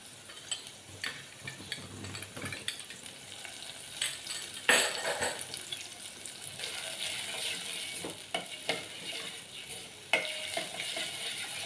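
Spice paste with garlic chutney, coriander-cumin powder, turmeric and salt sautéing in hot oil for a Gujarati cluster bean and potato dish: a steady close sizzle with scraping stirs and a few sharper pan knocks, no talk.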